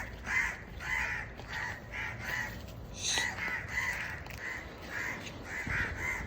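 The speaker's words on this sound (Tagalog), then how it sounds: "May uwak pala. Nahulog yung anak kaya pala maingay." Harsh crow caws repeat in a steady run of short bursts, fairly close, from a parent crow whose chick has fallen, with a busy outdoor background and no talking.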